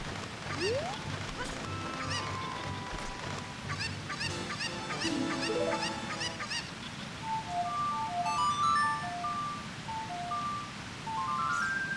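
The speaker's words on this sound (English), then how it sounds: "Poor chicken fell down in the water." Cuccos in The Legend of Zelda: Ocarina of Time give out honking, squawking clucks amid bright game chimes and tonal blips, several calls bunched early and then scattered melodic beeps later.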